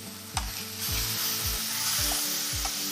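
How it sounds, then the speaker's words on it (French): Vegetables with mustard fry in a hot pan over high heat, a loud continuous sizzle broken by about five rhythmic scraping strokes of a utensil stirring them. "On remue."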